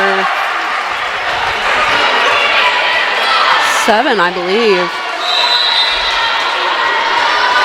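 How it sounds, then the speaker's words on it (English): Crowd noise at a women's college volleyball match, a sustained roar of voices and cheering with a commentator talking over it. "And the crowd getting really into it."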